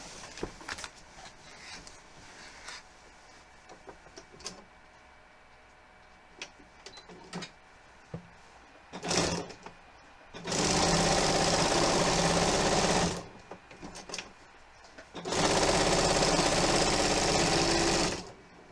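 A sewing machine basting a quilt, running in two sustained loud whirring bursts of a few seconds each, preceded by scattered small clicks and handling noises close by.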